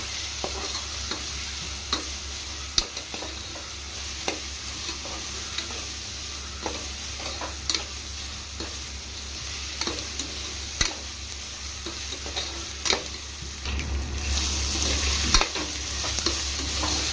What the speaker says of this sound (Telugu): ఈ అల్లం వెల్లుల్లి పేస్ట్ కూడా పచ్చి వాసన పోయే వరకు ఫ్రై చేసుకుందాం.